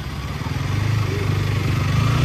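KTM RC 200 motorcycle engine running steadily at a low idle, a close, continuous throb that holds even for a couple of seconds with no talk.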